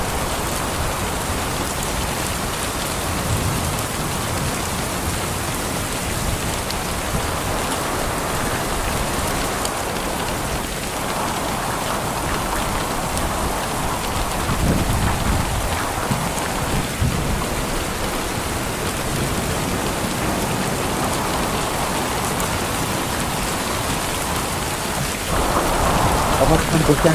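Steady heavy rain pours down over a West Bengal village, a dense continuous hiss with low thunder rumbling underneath and swelling at moments, loud and close throughout.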